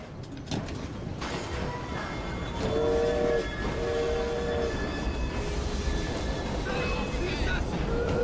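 Train in the video game Assassin's Creed Syndicate, a steady rolling rumble with a whistle-like tonal call rising over it midway, mixed with game sound effects.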